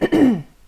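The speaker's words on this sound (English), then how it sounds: "sorry for the coughing." A single close, loud throat-clearing cough from one person, a short harsh burst trailing into a voiced rasp under a second.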